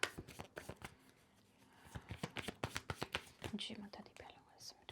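Tarot cards are shuffled and handled up close, with quick bursts of riffling taps in uneven runs and soft whispering between them.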